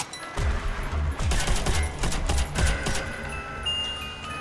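A Browning machine gun fires in Call of Duty: World at War zombies mode, several loud close bursts of rapid shots separated by brief pauses, followed by a fading mechanical tail.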